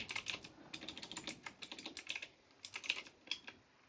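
Rapid keystrokes on a computer keyboard come in quick, close clicking bursts with a short pause midway, no one talking.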